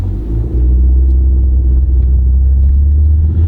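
A car engine runs under light throttle, giving a loud, close, steady low rumble that holds evenly for a few seconds without a sharp rev or any voices.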